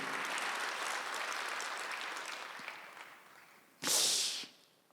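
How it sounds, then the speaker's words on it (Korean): A church congregation at a Sunday worship service applauds during the pastor's sermon, with a sustained round of clapping that fades out, then a short sharp burst of louder applause near the end. "박수 주세요."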